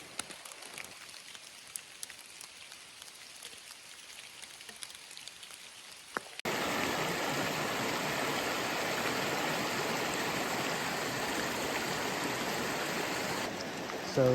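Steady broadband rush of the Toxaway River flowing beneath a trail suspension bridge, loud and continuous in the second half after a quieter, more distant stretch, with no voices.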